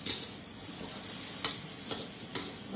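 Chinese kale stir-frying with moo yor pork sausage in a wok, a steady close sizzle broken by three sharp scraping stirs of the spatula, with no talking.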